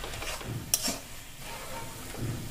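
Carrot halwa being stirred as it fries in a kadhai, a low steady sizzle with soft scraping and a single sharp metallic clink from the spoon against the pan.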